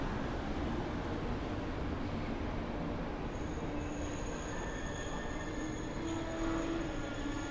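An Intercity passenger train hauled by an EP09 electric locomotive rolls steadily through Warszawa Zachodnia station, a dense rumble of wheels on rails with drawn-out metallic squeals, heard alone at moderate distance.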